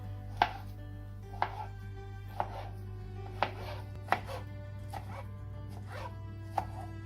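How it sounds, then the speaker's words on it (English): A knife chops soft roasted eggplant into small pieces on a board, eight or so sharp, evenly spaced cuts over a steady low hum, fairly close and with no talking. "Cut it into small pieces."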